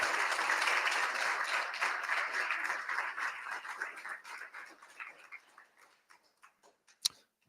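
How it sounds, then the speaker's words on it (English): An audience at an Edmund Fitzgerald memorial ceremony applauds military veterans, clapping that starts full and steady then thins out and fades into a few scattered final claps. "Let's give them a round of applause."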